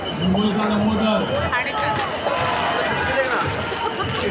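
A huge, dense crowd roars at a Ganpati Visarjan procession for Ganesh Chaturthi, a continuous loud wash of voices and festival noise with no letup.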